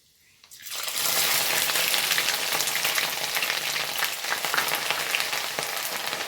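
Chopped ginger dropped into hot oil with fenugreek seeds for a date and lemon pickle, bursting into a loud, dense, continuous sizzle after a brief quiet start, close up with no talking.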